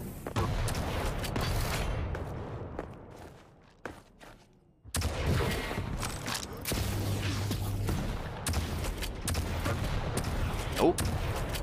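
Rocket launcher fire and explosions in a Quake 1v1 championship qualifier match: dense, loud bursts of weapon blasts and impacts, a brief quieter lull midway, then continuous heavy firing with faint footsteps.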